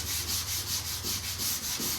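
Evercoat 4:1 polyester primer on a car panel being block-sanded with finer-grit paper, a steady rhythmic rasp of back-and-forth strokes, close and continuous with no talk.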